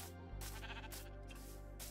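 Sheep bleating in the video game Minecraft, a clear wavering bleat starting after a brief pause and holding steady, loud and close with no voices over it.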